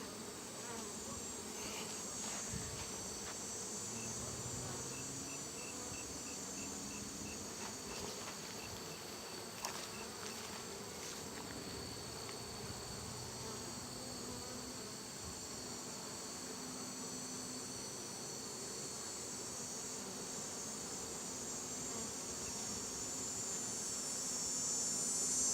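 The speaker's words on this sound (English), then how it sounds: "These are Mary Ellen bees" Honeybees of the Mary Ellen line buzz in a steady, dense drone throughout a winter-readiness hive inspection, a continuous close hum with no talk over it.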